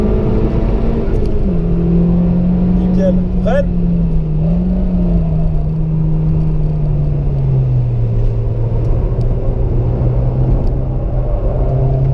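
Race car on the Nürburgring circuit, its engine droning steadily at close range with pitch rising and falling through acceleration and gear changes, under someone talking.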